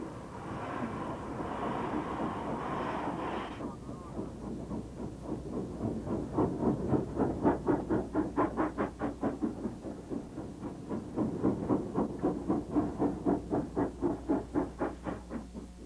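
Steam locomotives in China's northeast open with a long hiss of steam, then work hard with loud rhythmic chuffing beats that rise and fall as the trains pass, with no one speaking.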